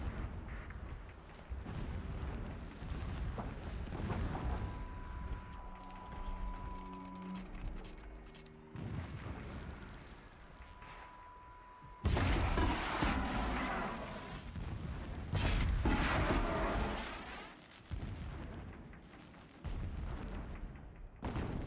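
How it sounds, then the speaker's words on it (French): Deep booms of distant explosions rumble in the video game Horizon Zero Dawn, broad bursts of noise rising and falling over a steady game soundscape, with a tonal hum midway. "Des explosions loin."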